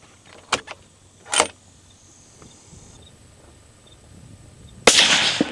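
A single sharp, loud rifle shot from a .280 Ackley fired from an elevated position on a rise toward a target, a sudden crack with a brief decaying tail after a few faint clicks and handling sounds.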